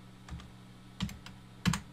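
Three short bursts of computer keyboard typing, entering dimensions while modeling a building in SketchUp; quick clusters of keystrokes spaced apart, close and fairly quiet over a faint steady hum, with no talking.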